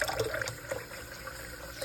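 Water is poured into cups to make protein ice cream, a short, close trickle and splash of liquid filling the containers with no talking.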